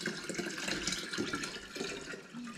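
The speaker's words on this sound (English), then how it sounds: "So I put some cold water in there and pour also my tea." Cold water and tea poured into a jar while starting a batch of kombucha, a steady close splashing pour filling the container, running without a break and with no talk over it.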